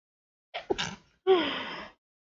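A single sneeze: a sharp gasping inhale in two catches, then a loud breathy burst, close and alone in a quiet room.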